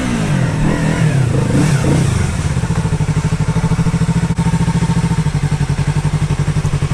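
A project motorcycle engine, revving at first and then settling into a loud, close, steady idle with an even pulsing beat, heard alone without voices.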